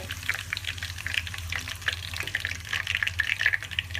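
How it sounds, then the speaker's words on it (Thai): Grasshoppers frying briefly in hot oil, a dense crackling sizzle with bubbling pops, steady and close throughout, no voices. "ใส่ไปแป๊บเดียวก็ได้แล้วค่ะ ไม่ต้องทอดนานอะไร"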